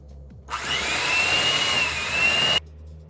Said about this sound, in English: Now I'm going to mix with my hand mixer at low speed.